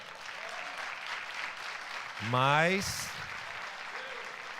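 Congregation applauding during a church service for pastors, a moderate wash of clapping heard from a distance with a voice briefly speaking over it midway.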